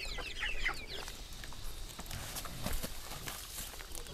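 Hens clucking close by over a busy outdoor background, a few sharper calls near the start and scattered clicks and knocks throughout.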